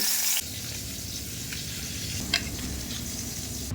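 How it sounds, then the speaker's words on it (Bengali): Cauliflower and potato pieces fry in oil with a little turmeric and salt, giving a steady close sizzle with occasional stirring scrapes and a brief clatter, after a short louder burst at the start. "ফুলকপি আর আলুর মধ্যে সামান্য হলুদ অল্প একটু লবণ দিয়ে ফুলকপি ভেজে নেব"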